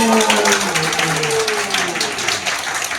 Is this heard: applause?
yes